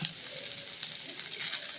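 Steady, crackling sizzle of onions and curry leaves frying in hot coconut oil, close up and continuous with small popping bursts.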